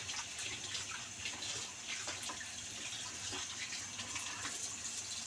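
Water running and splashing steadily as ingredients for miso soup are rinsed and drained at a sink, a continuous close gush with no talk.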